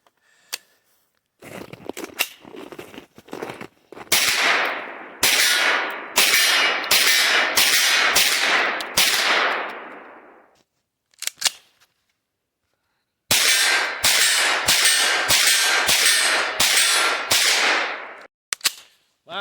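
A KelTec Sub2000 9mm carbine fires loud, sharp shots outdoors in two long strings of rapid, evenly spaced rounds separated by a pause, each crack close and echoing, with scattered softer clicks between, no talking.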